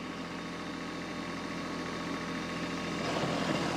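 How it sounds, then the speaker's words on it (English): A tractor engine drives a PTO tiller while working a deer food plot, making a steady, dense mechanical roar that swells slightly louder in the last second as the revs come up, with no voices. "I'm gonna rev it up just a little bit."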